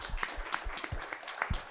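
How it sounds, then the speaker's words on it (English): Audience applause at a community evening event, faint and scattered, with a handful of separate claps over a quiet room. "So please give yourself a round of applause."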